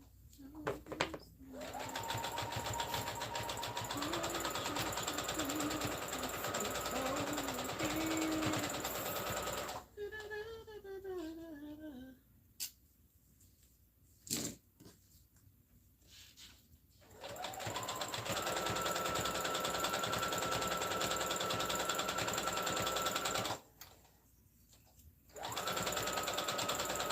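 A sewing machine stitches fabric in long, steady runs of rapid mechanical whirring and needle clatter, loud and close, broken by pauses with faint handling noises and a short burst of a rising and falling whine.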